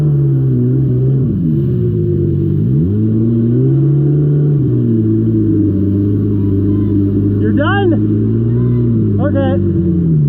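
An X2 mini motorbike engine buzzes steadily and rises and falls in pitch as the throttle is worked, loud and close, with brief voices cutting in near the end.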